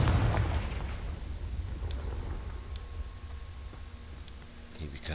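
A Confringo blasting spell explodes in Hogwarts Legacy, a loud booming burst at the start that trails off into a rumbling roar lasting several seconds.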